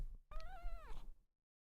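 A cat gives a single clear meow, rising then falling, close and fairly quiet, followed by silence.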